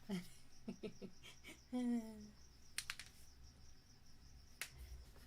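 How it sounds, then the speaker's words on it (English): Real crickets chirping at night, a faint steady high trill running through the whole stretch, with a few soft close taps and brushing noises over it. "I guess I can leave them on instead of the snow sounds, since you get real cricket ASMR."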